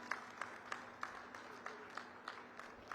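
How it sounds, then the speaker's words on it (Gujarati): Faint, distant applause from a crowd at an outdoor political rally, with a regular patter of claps under a steady hum. "પેન્દ્રભાઈ પટેલ સાહેબ આપણી વચ્ચે ઉપસ્થિત છે, ત્યારે આપણે સૌ તાળીઓના ગડગડાટથી એમને વધાવીશું."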